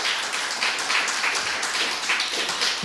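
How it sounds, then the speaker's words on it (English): Lecture audience applauding as ex-RAF speaker Julie Phelps is introduced: steady, dense clapping from a room full of people, moderately loud and continuous throughout, with no voices over it. "Everybody, a round of applause for ex-RAF Julie Phelps."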